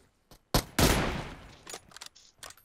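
Gunfire in PUBG Mobile: a couple of small pops, then two loud bursts of shots close by, with the second one longer and trailing off, followed by scattered lighter shots and clicks.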